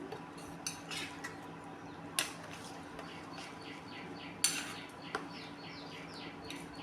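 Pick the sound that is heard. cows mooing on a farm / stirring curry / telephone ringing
stirring curry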